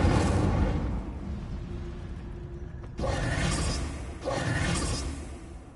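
A fire spell cast in the PS5 game Hogwarts Legacy: a close, loud whooshing burst of flame that flares up, dips near the middle, then roars again in two further surges before fading.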